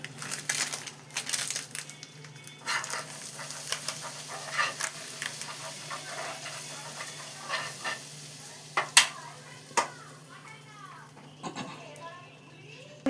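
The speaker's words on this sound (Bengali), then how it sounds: "আর এই বাটারটার মধ্যে আমি খানিকটা লাল কাশ্মীরি লঙ্কার গুঁড়ো দিয়ে নিলাম" Kashmiri red chili powder sizzles in butter for a mushroom and soybean dish: a steady close frying hiss with repeated scraping and stirring clatters throughout.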